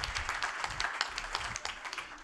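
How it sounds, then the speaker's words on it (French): An audience at a workplace quality-of-life debate event applauds with steady, dense clapping from many hands, moderately loud and continuous with no voices over it. "On peut l'applaudir."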